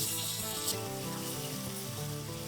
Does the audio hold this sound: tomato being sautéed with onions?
yes